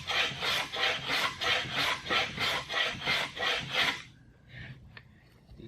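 Hand tool rasping a 45-degree chamfer along a wooden edge, about ten even back-and-forth strokes at close range, then a few faint taps.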